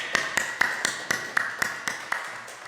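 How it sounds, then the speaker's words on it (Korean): Scattered claps in a steady rhythm rise from a congregation at a Wednesday church worship service, about nine distinct sharp hits in under three seconds, moderately faint with some room reverberation and no talking. "우리 박수로 먼저 영광 올려드리겠습니다"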